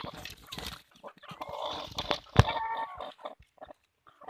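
Country chickens on a forest farm at night give faint, scattered clucks beneath people talking nearby.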